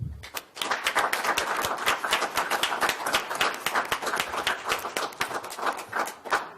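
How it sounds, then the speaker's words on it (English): A round of applause at a city council meeting honoring a police officer: a small crowd's crisp, distinct claps ring out close and fairly loud, holding a brisk, even rhythm for several seconds. "Let's give Officer Spears a round of applause."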